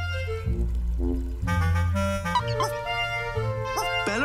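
A cartoon pet dog barks and whimpers in short, high yelps and whines over a bed of music, the sounds coming in several quick bursts close up.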